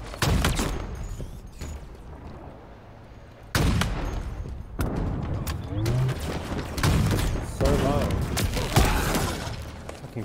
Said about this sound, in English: tank shooting at me and this guy shooting at me at the same time